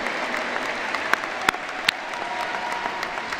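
A crowd applauds steadily at a 2022 undergraduate commencement ceremony, a dense wash of clapping with a few sharper claps standing out and no talk over it.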